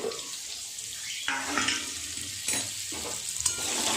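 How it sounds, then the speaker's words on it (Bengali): Potato pieces with salt and turmeric fry in hot oil in a partly covered pan, giving a steady close sizzle broken by a few louder stirring scrapes. "একটু চাপা দিয়ে আলুগুলো সুন্দর করে ভাজা করে নেব।"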